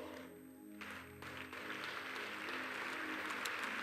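A church congregation claps during a sermon, the applause starting faint and patchy, then building into steady, fairly quiet clapping from the crowd.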